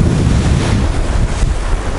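Stormy sea on the coast at Sochi, Adler: strong wind roars across the microphone over heavy crashing surf, a loud, continuous broadband rush with no voices.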